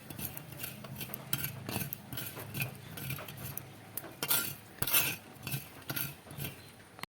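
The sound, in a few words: dry roasting fennel, coriander and cumin seeds on stove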